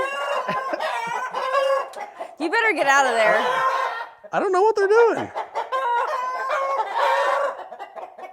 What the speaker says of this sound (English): These are some tame roosters.